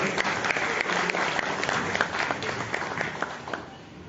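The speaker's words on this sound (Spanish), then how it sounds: "Fuertes los aplausos también para él." A crowd at an evening tribute ceremony in Chimbote applauds an honoured guest, with steady close clapping that fades slightly toward the end.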